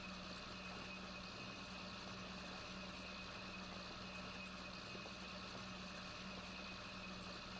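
A tractor engine in the video game Farming Simulator 2019 idles and drones steadily, with a low, constant mechanical hum and rumble at an even loudness and no talk.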